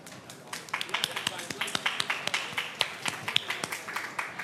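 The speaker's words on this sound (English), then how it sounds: "A huge round of applause for these legends here" A small group applauds in a motorsport post-race press conference room, sparse distinct claps in a quick irregular rhythm, moderately close, with some talk mixed in.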